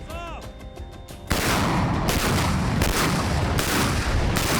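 After a few faint tones, a heavy artillery blast bursts in and is followed by a sustained, loud roar of rumbling noise.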